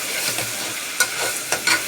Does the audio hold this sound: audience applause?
no